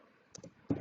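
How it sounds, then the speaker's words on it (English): Quick keystrokes on a computer keyboard, a couple of light clicks followed by a louder cluster of taps, close and alone with no talking. "I'm just typing here."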